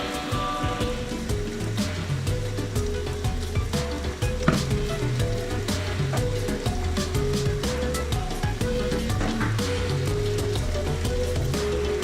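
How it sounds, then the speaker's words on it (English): Chopped bite-sized cauliflower florets sizzle and fry steadily in a hot pan for a vegan Indian-style curry, a continuous close crackle with occasional stirring, no talk. "We're going to add in our cauliflower that has been chopped into bite-sized florets."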